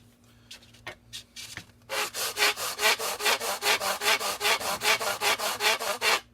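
Sanding a plastic scale model truck part: steady back-and-forth scraping strokes, close and fairly loud, about two per second after a few quieter scrapes at the start. No talking.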